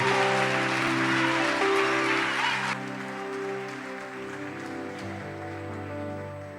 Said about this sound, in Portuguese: Você pode aplaudir ao Senhor nesta noite?